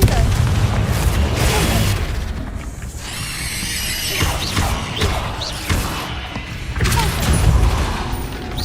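Confringo spell blasts in Hogwarts Legacy, booming bursts and crashing impacts with shrill magical squeals, loud and layered over game ambience.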